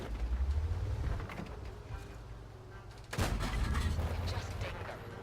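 Artillery fire in World of Tanks: a deep booming rumble opens, then a sharp, loud blast hits midway and rolls on, with game noise and a voice talking over it.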